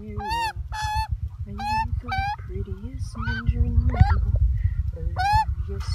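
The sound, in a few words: goose honking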